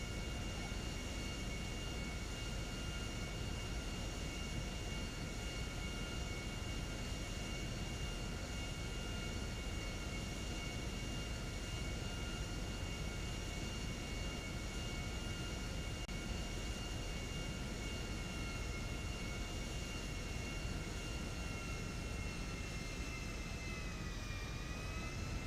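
A jet airliner on long final approach to land at an airport in a GTA roleplay game, its steady, loud engine roar and high whine holding continuously throughout with a slight pitch shift near the end.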